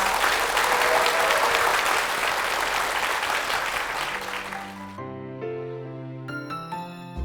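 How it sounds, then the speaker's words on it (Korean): A church congregation at Gwangju Sarang Church applauds in a dense, steady burst for about five seconds, then the clapping gives way to soft sustained musical tones. "우리 두 분께 박수 부탁드립니다."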